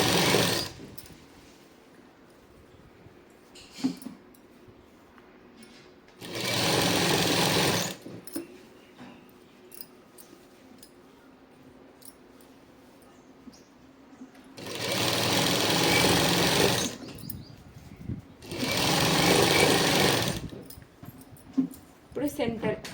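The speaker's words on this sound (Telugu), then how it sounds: "రెండు సమానంగా పట్టుకొని కుట్టు వేసేసుకోవాలి" Sewing machine stitching Punjabi dress fabric in three separate loud runs of continuous whirring, each a few seconds long, with a person talking between the bursts.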